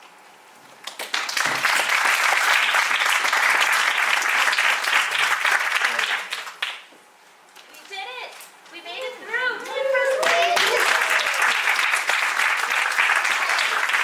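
Audience applause at a tech pitch competition, a long loud burst of clapping that breaks off midway while a voice calls out excitedly, then swells back up just as strongly.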